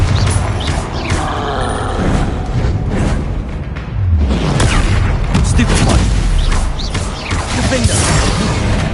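Explosive booms and blasts from the Confringo spell in Hogwarts Legacy erupt loudly in heavy spell combat, with deep impacts mixed among crashes, and a player shouting over the action.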